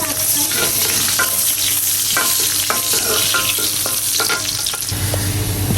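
Onion, cumin and bay leaf fry in a hot pan with a steady, loud sizzle, broken by repeated scraping stir strokes from a spatula, with no voices.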